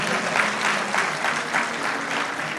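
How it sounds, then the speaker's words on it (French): Audience at an evening closing ceremony applauding teachers, sustained dense clapping from a large crowd with a gently rising and falling swell. "est-ce qu'on peut applaudir pour les enseignants?"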